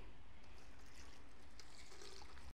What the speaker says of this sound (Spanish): le vamos a agregar un vasito de agua